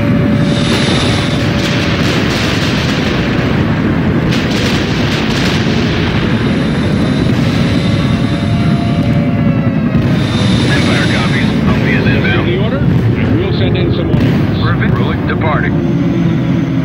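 Medium artillery firing in a World in Conflict modern-warfare mod, with heavy booms and rumbling blasts over a constant roar of battle, aircraft and vehicle noise mixed in.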